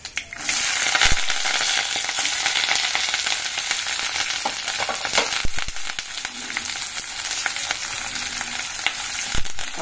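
Mustard seeds, urad and chana dal, green chillies, onion and curry leaves crackle in hot oil for a Kurnool rava upma tempering, a steady close sizzle with sharp spattering pops throughout, no talking.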